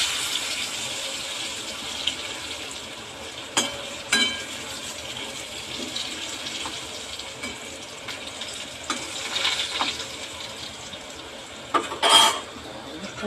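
Potatoes fry in oil in a pan for a vegetarian curry, giving a steady sizzling hiss broken by occasional metallic clinks and scrapes of a stirring utensil.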